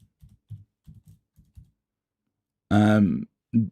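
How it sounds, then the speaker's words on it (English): Computer keyboard keys tapped in a quick, irregular run of soft clicks while a search query is typed, followed by a short burst of a nearby voice. "So I could just type in WordPress"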